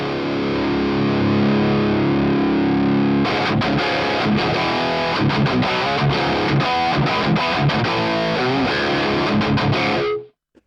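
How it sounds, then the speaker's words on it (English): Electric guitar through a RedSeven Amp Central EVO preamp pedal: a sustained distorted chord rings first, then a loud, dense run of driven riffs with choppy, palm-muted strikes, close and alone, cutting off abruptly at the end. "which is a very popular preamp pedal at the moment"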